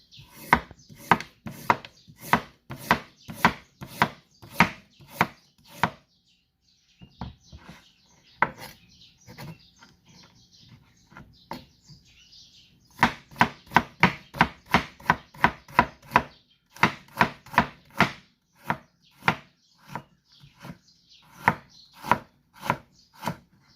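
A knife chops a carrot on a wooden board in fast, crisp, evenly spaced strokes, pausing briefly between bursts, close and clear with no talking.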